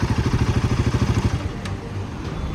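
A Royal Enfield Himalayan 450 with its Sherpa 450 engine idling and then revving up, a close, loud rhythmic thumping that smooths into a higher steady drone as the throttle opens.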